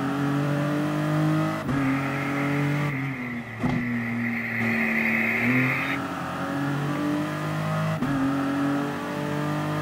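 A race car in the GT Sport video game accelerates hard, its engine whine climbing in pitch through several gear changes, loud and close without talk.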